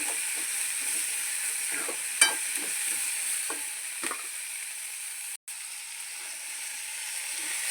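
Chana dal frying in a pan for beetroot chutney, a steady close sizzle with occasional soft stirring scrapes and taps, no talk.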